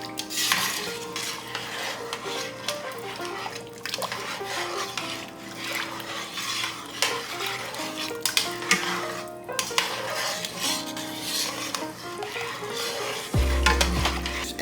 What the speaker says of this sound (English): come back and just stir all this in